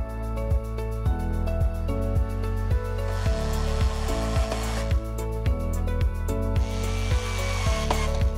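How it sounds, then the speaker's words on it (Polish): Cover being removed and a HEPA filter adaptor fitted on a Merida Turbojet dryer, with a loud steady motor hum and regular clicking, scraping handling noises throughout, no speech. "Należy zdemontować osłonę mechanizmu i w jej miejsce zamontować adaptor filtra HEPA."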